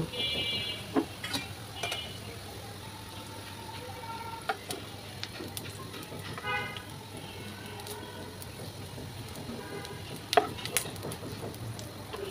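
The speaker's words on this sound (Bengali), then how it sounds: "পরিমাণ মতো পেঁয়াজ কুচি দিয়ে ভেজে বেরেস্তা করে নেব।" Chopped onions frying in hot oil until crisp and golden for a flattened-rice pilaf, giving a fairly quiet, steady sizzling hiss with a few faint clinks of a utensil in the pan.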